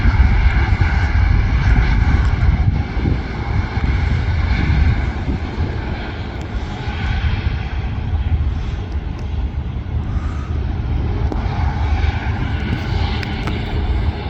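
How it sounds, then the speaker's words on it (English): A Singapore Airlines Airbus A350 at Manchester Airport gives off a steady, fairly loud jet-engine roar that holds without a break, heard from an outdoor viewing park. "Singapore A350"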